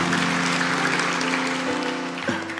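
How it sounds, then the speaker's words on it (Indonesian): A church congregation applauds at a sermon, a dense, steady wash of clapping from many hands that holds throughout, with a faint sustained tone beneath it. "Kasih tepuk tangan untuk Tuhan."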